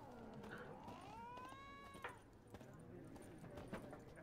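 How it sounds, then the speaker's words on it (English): In The Witcher 3, a faint, drawn-out cat meow rises and falls over a quiet game soundscape, with soft horse hoof clops and scattered light knocks in the background. "There was a kitty somewhere."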